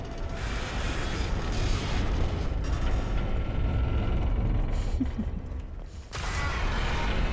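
Ship crashing in Mass Effect 2 during Lair of the Shadow Broker: a dense, continuous rumbling roar with creaks and metallic clanks, loud and sustained, with a brief dip near the end before the rumble resumes.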